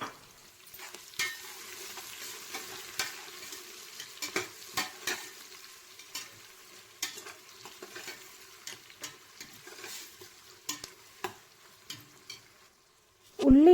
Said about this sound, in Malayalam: മുറിച്ച് മാറ്റി വെച്ചിരിക്കുന്ന ഉള്ളി കൂടി അതിലേക്ക് ഇട്ട് കൊടുക്കാം